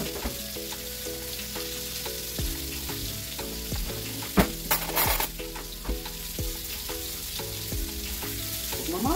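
Fish frying in a new pan, a steady loud sizzle with repeated scraping and stirring clicks throughout and a brief louder flare near the middle, with no talking.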